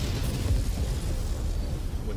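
Chain-fired mech weapons in MechWarrior 5 blast in rapid succession, heavy booming explosions with dense low rumble that keeps going through the moment, close and loud.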